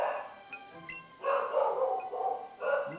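A dog barks in the Pokémon Let's Go Eevee video game, giving several short, fairly loud yapping barks in quick bursts with no talking over them.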